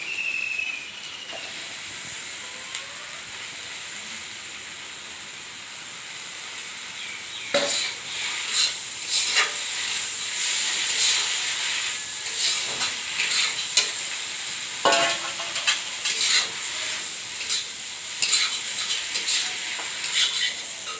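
Steady hiss of Malabar spinach (pui shak) sizzling in a hot frying pan, with occasional sharper crackles and scraping stirs punctuating the continuous frying sound.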